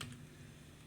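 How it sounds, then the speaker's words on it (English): Quiet typing on a computer keyboard while creating a LaTeX title page, a soft run of light key clicks close by. "So another one is I'm gonna be typing"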